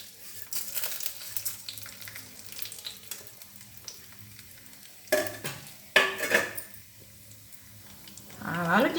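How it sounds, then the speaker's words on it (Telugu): Urad dal and chana dal hit hot oil for tempering and fry with a crackling sizzle, stirred with a spoon against the pan. The sizzle grows louder and busier toward the end. "మినపప్పు శనగపప్పు వేసేద్దాం."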